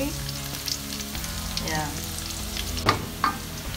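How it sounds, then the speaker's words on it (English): Egusi frying and sizzling in a pot for soup, a steady close crackle with a few louder stir-like pops near the end and a brief spoken word. "it's been frying for about 2 minutes now and this is what it looks like"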